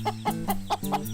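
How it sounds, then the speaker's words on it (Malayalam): Cartoon hens cluck in a quick run of about five short, evenly spaced calls, close and clear over a steady low tone. "ഇവിടെ ഒരുപാട് കോഴികളുണ്ടെന്ന് തോന്നുന്നു"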